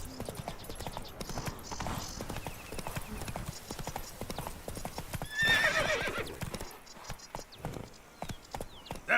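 Geralt's horse Roach trotting in The Witcher 3: Blood & Wine, a steady, close clip-clop of hooves with snorts and a brief whinny, under faint talk and ambient sound.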